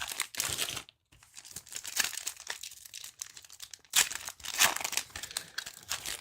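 Thin foil packs of 2024 Select football trading cards crinkle and tear open close up. Bursts of crumpling wrapper come in uneven waves with brief pauses, and no one speaks.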